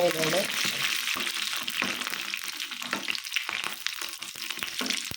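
Bajji fritters frying in hot oil, a steady broadband sizzle with scattered crackles and occasional clinks as pieces are turned, close by, with a voice speaking over it.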